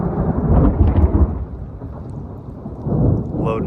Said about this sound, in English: we got a big rainstorm